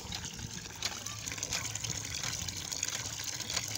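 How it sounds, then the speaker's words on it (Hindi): Water gushing from a newly installed hand pump on a village well, a steady rushing, splashing flow throughout, heard fairly faintly with muffled background sounds. "मीठा पानी साफ़ सुथरा पानी निकला है"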